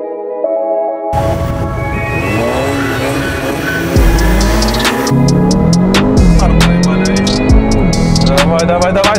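A tuned Stage 3 VW Golf R races a Stage 2 Audi S, its turbocharged engine revving hard with rising pulls through the gears, abrupt shift drops and a loud, close cabin roar, with voices over it.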